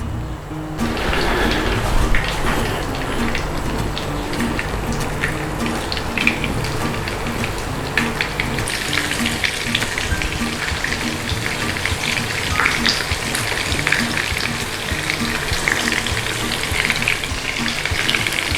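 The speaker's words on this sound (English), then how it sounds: "we're going to fry these meatballs, so we're going to go in the pan with a little bit of oil" Beef meatballs shallow frying in a little oil in a pan, giving a dense, continuous crackling sizzle like heavy rain that holds steady throughout with occasional louder pops.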